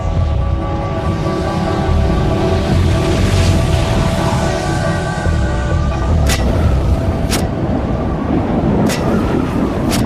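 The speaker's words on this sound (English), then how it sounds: "A series of booms could be heard hundreds of miles away." Krakatau volcano erupting, heard as a dense, continuous low rumble. A few sharp cracks break through near the end.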